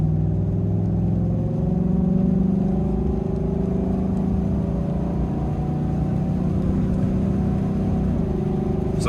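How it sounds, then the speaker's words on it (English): A 2019 Chevrolet Silverado pickup pulls away at half throttle, a steady engine drone rising gradually in pitch under a low rumble, heard from inside the cab with no talking. "So I mean, this is about half throttle here."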